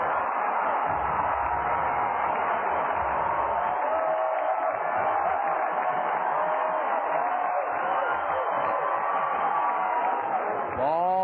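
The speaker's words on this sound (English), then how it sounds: "And listen to the crowd. Listen to the crowd. They're on their feet." A baseball crowd at a minor-league game between the Clinton LumberKings and the Cedar Rapids Kernels roars on its feet. It is a dense, steady wall of cheering that runs the whole time, with a narrow, radio-like tone.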